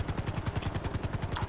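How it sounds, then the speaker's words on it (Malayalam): A video-game helicopter comes in to land, its rotor beating in a fast, even, loud chop that fills the whole stretch without any speech. "ഹെലികോപ്റ്റർ ലാൻഡ് ചെയ്യുന്ന എങ്ങനെയാണ് ഞാൻ പഠിപ്പിച്ചത്."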